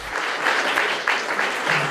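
A Kyiv crowd gives a sustained ovation to Eurovision winner Ruslana, steady dense applause that stays loud throughout, with faint voices mixed in.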